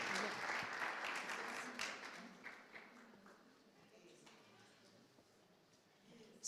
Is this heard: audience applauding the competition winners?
yes